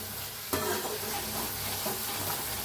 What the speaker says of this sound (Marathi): कात्रा वल्ल खोबरं होतं, तेल सुटूस तर भाजून घेऊया